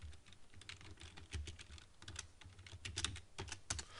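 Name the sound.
typing on a computer keyboard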